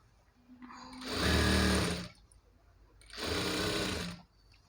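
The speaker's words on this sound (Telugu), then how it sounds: "చూడండి ఇలా కుట్టుకుంటూ వెళ్తూ ఉంటే మనకి లాస్ట్కు వచ్చేస్తుందండి" A sewing machine stitches Punjabi dress pants in two loud, close bursts of rapid whirring, each lasting about a second, separated by a brief quiet pause.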